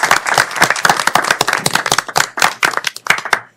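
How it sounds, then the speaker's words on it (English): A small group applauds at a board meeting, distinct individual claps forming a brisk, uneven patter that continues for a few seconds before tapering off. "I think we should go ahead and give them a round of applause for everything they've done for the last 60 years."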